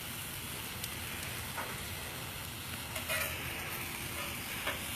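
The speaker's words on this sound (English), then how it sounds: "you want to throw your bun on to toast" A bun toasting on a hot Camp Chef Expedition 3X griddle on an outdoor patio gives off a steady, dense sizzle with small crackles and pops throughout. No voices.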